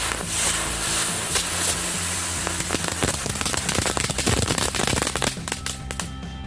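Five lotus spinner firecrackers fizz and crackle together outdoors, a dense, loud, continuous stream of rapid pops and sputters that thickens into a sharp, scattered burst of small cracks toward the end.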